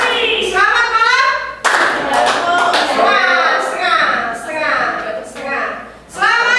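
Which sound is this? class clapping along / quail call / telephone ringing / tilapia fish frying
class clapping along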